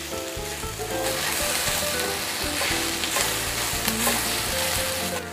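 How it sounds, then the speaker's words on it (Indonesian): Spices and dried rebon shrimp stir-fry in a pan with a loud, constant close sizzle. Clicks and scrapes of stirring recur throughout. "Ditumis-tumis sampai semua bahan ini aromanya harum ya."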